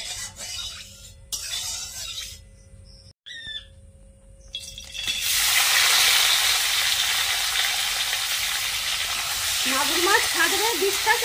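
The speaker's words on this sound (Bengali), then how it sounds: "এবারে মাছগুলো ভেজে নেবো।" Magur catfish frying in mustard oil in a wok, a broad steady sizzle that swells loud after a quieter start with some clatter, with bird calls chirping faintly in the background.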